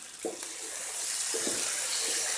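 Water poured into chickpeas frying in masala, a short rushing pour with a couple of soft splashes rising into a steady sizzling hiss.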